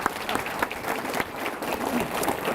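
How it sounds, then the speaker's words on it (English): An audience at a panel discussion on American democracy applauds with steady, dense clapping that holds at moderate volume throughout. "a round of applause for this panel."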